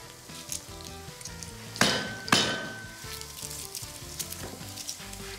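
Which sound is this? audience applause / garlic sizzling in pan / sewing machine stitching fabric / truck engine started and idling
garlic sizzling in pan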